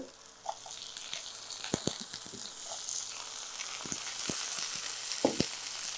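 Vegetables sautéing in a pan with a steady, hissing sizzle throughout, punctuated by a few sharp clicks and spoon knocks from stirring, close up and alone.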